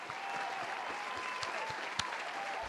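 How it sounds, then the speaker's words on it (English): A short burst of audience applause plays on a talk podcast. It is fairly quiet and even, with faint tonal background sound and a few soft thumps underneath. "Let me give myself a round of applause for that."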